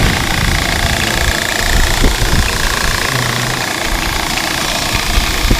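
An engine-driven grain auger transfers soybeans from a wagon, giving a steady, loud mechanical drone with a low rumbling knock that holds evenly throughout, with no voices.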